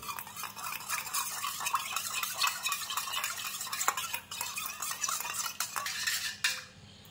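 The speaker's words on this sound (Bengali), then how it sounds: "দেখো ডিমটাকে এবার আমি আগে এই নুনটা আর জলটা গুলে নিতে হবে।" Salt and water for egg bhujia get stirred together with a spoon in a small bowl, a close, quiet, steady scraping and clinking with rapid rhythmic strokes that continue throughout.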